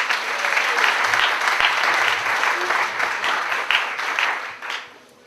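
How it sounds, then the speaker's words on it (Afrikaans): Warm applause from wedding guests, a dense sustained clapping from a crowd close by that holds steady and then tapers off near the end. "Kom ons gee vir 'n hande klap julle."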